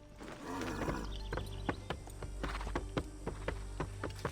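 A horse's hooves clip-clop at a steady walking pace in the Assassin's Creed III video game. The sharp, evenly spaced hoof strikes sit over a continuous backdrop of game music and ambience.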